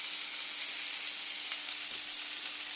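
Pointed gourd (potol) frying in a pan gives a constant, even sizzle of hot oil, close and unbroken for the whole stretch, with no talking.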